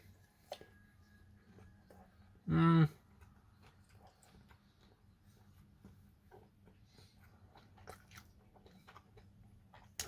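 Short crunchy bite and chewing on Stawnichy Mundare pepperoni sausage during a taste test, one brief burst near the start, then a quiet room.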